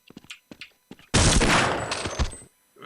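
Video game gunfire: a sustained loud burst of rapid shots lasting over a second, fading into a tail, after a few soft clicks and taps.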